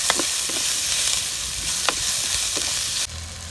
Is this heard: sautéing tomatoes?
yes